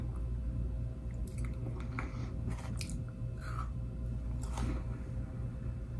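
Crunchy Canadian caramel chocolate biscuit, much like a Twix, chewed close to the mic, giving a steady run of soft crunches and squishy mouth sounds over a constant low background hum.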